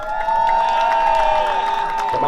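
Crowd cheering and applause at a street-naming ceremony in Vallejo honoring E-40, loud whoops and clapping mixed with a strong sustained tonal sound and a voice over the crowd.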